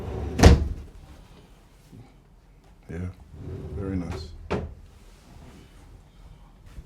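Wardrobe doors and drawers in a home bedroom being handled, with a sharp loud knock or slam near the start and softer thuds and slides after, while people talk briefly in between.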